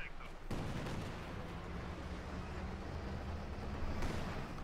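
Katyusha rocket artillery in the Company of Heroes 2 battle game fires as a dense rumbling barrage, a continuous roar of launches and impacts that swells and holds for several seconds after an abrupt onset.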